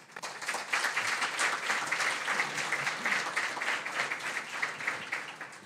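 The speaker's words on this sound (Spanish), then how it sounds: "la recibimos con un fuerte aplauso" Audience applause welcoming a speaker at a green hydrogen business event in Chile, steady dense clapping swelling early and holding evenly before starting to thin at the end.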